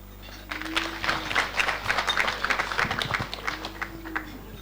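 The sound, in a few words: audience applause at an awards night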